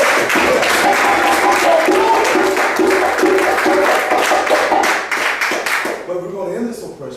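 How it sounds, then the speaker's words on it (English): A dense, loud round of audience applause rolls on for several seconds, with voices mixed in, then thins out and fades near the end. "So let's get a round of applause for Willie Lynch finally being dead."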